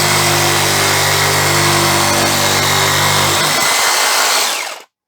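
A vintage electric power tool's motor runs loud and steady with a slightly rough, lumpy hum, then winds down and stops near the end.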